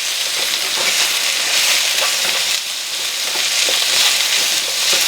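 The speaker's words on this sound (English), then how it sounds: "And in goes the stems, nicely finely chopped stems. Give it a little stir." Finely chopped Swiss chard stems hiss and sizzle loudly in a hot pan, a steady bright frying roar with faint stirring scrapes throughout.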